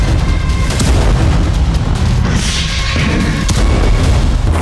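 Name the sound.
explosions during drone attack on Kyiv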